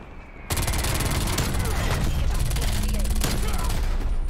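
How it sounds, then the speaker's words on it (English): Incoming artillery strike in a video game, a sudden dense barrage of rapid blasts and crackling gunfire that kicks in abruptly and stays loud and continuous, with voices talking underneath. "Artillery inbound."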